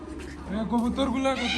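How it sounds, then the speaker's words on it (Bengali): Pigeons coo softly in an aviary alongside other birds, with low throaty calls mixed under someone talking close by. "এই যে কবুতর, এই যে কবুতর"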